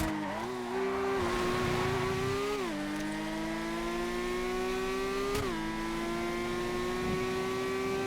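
Race car engine in a GTA FiveM street race revs and drones continuously, pitch climbing through gear shifts with brief drops, loud and close throughout.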